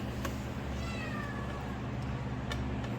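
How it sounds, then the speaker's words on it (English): A cat meows in a workshop where Harley M8 valve springs are being changed, its wavering calls rising and falling over a steady low mechanical hum, fairly faint and partly masked. "oh, that cat"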